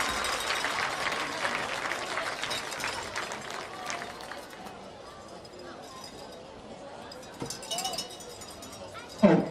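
Crowd applause and cheering at a high school football game for senior cheerleaders, loud broadband clapping and chatter at first that gradually thins and fades, with a few clinks and a brief burst near the end.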